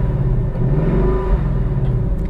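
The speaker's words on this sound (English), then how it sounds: "And as you can tell, the engine sounds pretty damn good too" A 2018 Mustang GT convertible's V8 rumbles loudly and close, its tone rising and falling slightly as it revs in a continuous deep growl.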